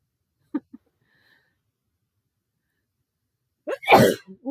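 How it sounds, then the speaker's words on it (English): A single loud, sharp sneeze bursts out near the end after a few faint small sounds and near silence. "I'm going to sneeze."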